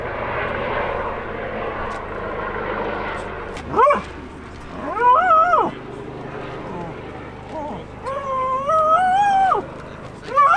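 Several dog barks and yips ring out in short bursts, some drawn into rising whines, over a steady low drone like a passing aircraft.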